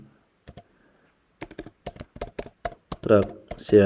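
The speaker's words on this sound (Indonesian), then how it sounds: "Ini kita ketik update construction" Clicky computer keys are struck in short bursts of quick taps, close and clear, during a GeoGebra software tutorial, and someone speaks briefly near the end.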